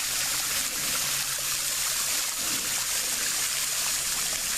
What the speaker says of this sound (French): je suis juste au-dessus de la cascade